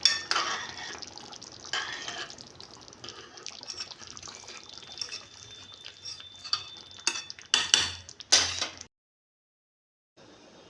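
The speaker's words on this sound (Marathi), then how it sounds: "सर्व मिश्रण नीट एकजीव करून 2-3 मिनिटे मंद आचेवर शिजू द्या." Pav bhaji mixture is stirred in a pan over low heat, with scraping and clinking strokes of a utensil against metal and a light sizzle, growing busier toward the end before cutting to silence.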